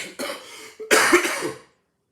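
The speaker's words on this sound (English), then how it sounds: "The cough is coming." A person coughs up close, a rough raspy run of coughs in two bursts, then silence.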